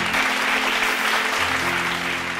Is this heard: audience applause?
yes